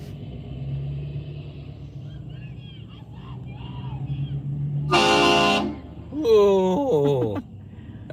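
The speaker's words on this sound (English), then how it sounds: "The people along the side of the road beg the trucks to honk at them" Trucks cruising a spring hot rod run in Pigeon Forge, Tennessee sound two loud, close horn blasts in quick succession, the second wavering, after a quieter stretch of traffic rumble and talk.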